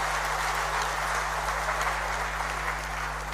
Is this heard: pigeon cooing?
no